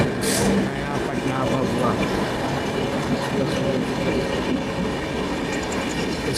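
An Indian summer special train from New Delhi to Gaya runs at speed while overtaking another train near Bhopal. Steady rumbling with clickety-clack wheel beats is heard close up, with a voice talking over it.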